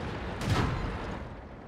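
A single heavy cannon blast from a Hetzer tank destroyer in a video game, a sudden booming report followed by a rumbling tail that fades over about a second.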